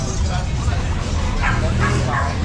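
An XL Bully dog in a cage gives short woofs and yelps close by, with people talking over it.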